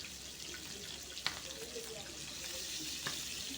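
Barramundi (koral fish) frying in oil over a medium flame gives a soft, steady crackling sizzle with a couple of sharp spits and pops, fairly quiet and close.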